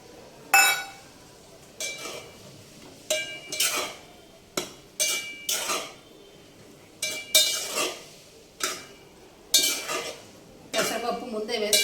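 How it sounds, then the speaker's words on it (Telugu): Washed moong dal is tipped into a pot of half-cooked rice for bellam pongali, with repeated clinks and scrapes of a metal spoon against the pot as it is stirred, in irregular bursts close by. "ఇప్పుడు ఇందులో మనం కడిగి పెట్టుకున్న పెసరపప్పు వేసేసుకుందాం"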